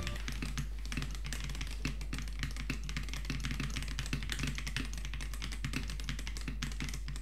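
Typing on a custom-built mechanical keyboard, with rapid, uneven key clacks close up over a steady low hum.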